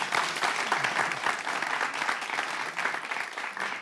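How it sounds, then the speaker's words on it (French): Studio audience at the semi-final of a television presenter competition breaks into steady, dense applause, many hands clapping throughout with no talk over it. "Ça s'applaudit"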